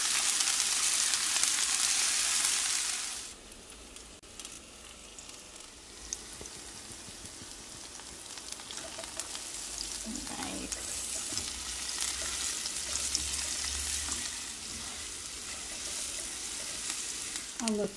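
Onions fry in a pan for a vegan curried smoked drumstick dish, a bright loud sizzle at first that drops to a quieter steady frying, with scraping stirs and utensil knocks scattered through it.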